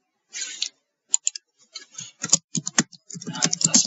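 A password being typed on a computer keyboard, an opening burst followed by scattered then quickening key clicks, close and crisp with no talk.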